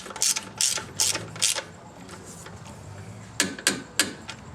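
Ratchet wrench tightening a 14 mm fastener on a bracket on a Dodge Ram 1500 5.9L engine, sharp bursts of clicking pawl strokes in two groups, close and clear.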